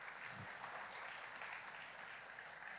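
Faint, steady applause from an audience at the opening welcome of the SAROD 2024 aerospace aerodynamics symposium. The clapping is a continuous, distant wash throughout.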